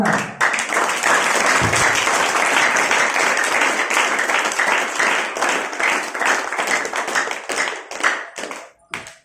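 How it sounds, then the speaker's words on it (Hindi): A church congregation gives loud, sustained applause during a sermon, dense clapping filling the room continuously before thinning out near the end. "आइए सभी इनके लिए जोरदार ताली बजाएं।"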